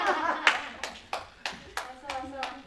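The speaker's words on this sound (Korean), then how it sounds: "우리 박수로 우리 환영해 주시고" A church congregation at a Friday praise and prayer service claps to welcome someone arriving, sharp separate handclaps in a loose rhythm, fairly near, about seven claps over a few seconds with faint voices underneath.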